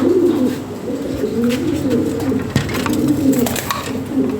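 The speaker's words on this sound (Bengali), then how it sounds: "কয়েক জোড়া কবুতর আছে দেখেন দেখার মতো" Fancy Lahori pigeons coo continuously and close up, with low rolling calls overlapping from several birds and a few soft thumps of movement.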